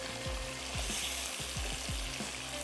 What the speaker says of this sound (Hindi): फ्लेवर्स जो हैं वो सील हो जाते हैं जब हम इस तरीके से चिकन को पकाते हैं